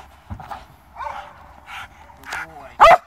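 A police dog barks in a short burst near the end of a carjacking training scenario, a loud close bark following scattered yips and whines under shouted commands from a handler.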